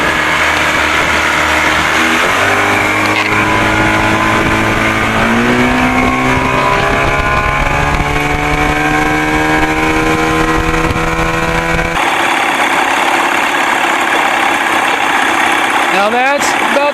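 A 1979 Evinrude 55 hp outboard motor with carburetor trouble idles steadily and loud up close, its pitch wavering and then shifting lower partway through, with a brief rising rev near the end.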